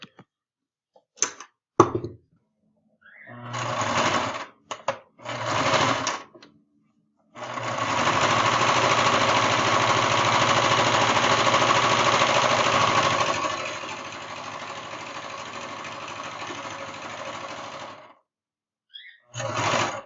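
A sewing machine runs along the edge of a T-shirt seam, first in several short bursts of stitching, then one long steady run of about ten seconds that eases off before a final brief burst, with no talking.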